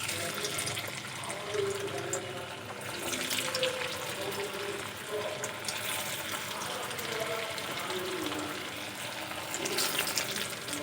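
Potato and flour snacks bubble and sizzle as they deep fry in hot oil, a continuous frothy crackle at moderate level with faint kitchen clatter.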